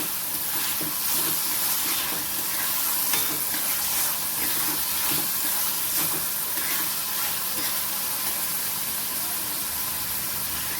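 Finely chopped onions sautéing in a pan for a Maharashtrian peas jhunka: a steady, even sizzle and hiss with soft stirring scrapes, close and continuous throughout.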